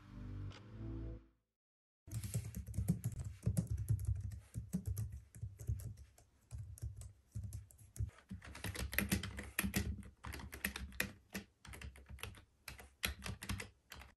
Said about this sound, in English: So comfortable typing and quiet.